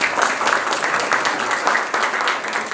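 An audience at an assembly of the Asian Blind Union applauds, a loud, dense, even burst of many hands clapping that fills the whole stretch without a break.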